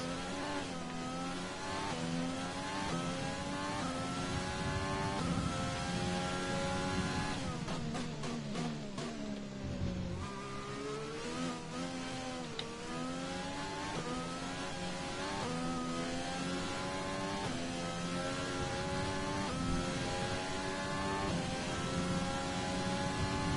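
A Formula 1 race car engine screams through the gears in F1 2020 during the Chinese Grand Prix, high-pitched revs climbing repeatedly with brief drops at shifts, loud and continuous throughout.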